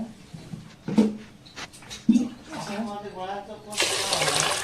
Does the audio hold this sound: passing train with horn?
no